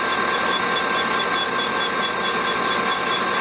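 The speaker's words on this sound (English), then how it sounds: "Trying to turn a ball bearing's outer race." A lathe hard-turns the hardened outer race of a ball bearing, giving a steady, continuous high-pitched whine and buzz with no pauses.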